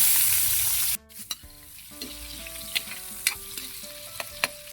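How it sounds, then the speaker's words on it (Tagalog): Oil sizzles steadily after a sudden drop in noise as garlic and onion are sautéed, with scattered clinks and scrapes of a utensil stirring ingredients in a pan. "Manggigisa na tayo. Lagay tayo ng mantika"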